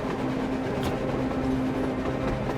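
Rumbling surface train in the video game Metro Exodus, a continuous low rolling drone with a sustained tonal hum and faint rattling on top, fairly loud and unbroken, with no voices.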